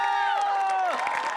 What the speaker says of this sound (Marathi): आणि चीअर लीडर्ससाठी एकदा जोरात टाळ्या.